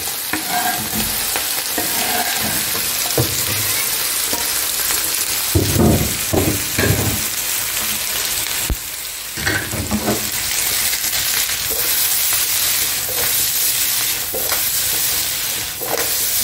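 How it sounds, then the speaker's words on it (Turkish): Onions sautéing in a very heavy, thick pan for a chicken and oyster mushroom sauté, loud continuous sizzling with scraping stirring strokes and occasional metallic clinks, nobody talking. "Şimdi suyunu çekince ne yapıyorum? Soğanlarımızı ekliyorum."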